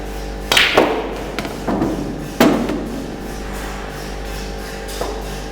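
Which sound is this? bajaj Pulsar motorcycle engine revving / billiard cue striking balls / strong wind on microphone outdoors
billiard cue striking balls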